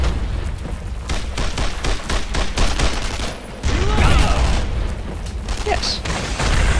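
Tank cannon fire and a flurry of gunshots boom repeatedly in the World War II shooter Brothers In Arms: Road to Hill 30, with heavy blasts layered over rapid bursts and a voice talking at times.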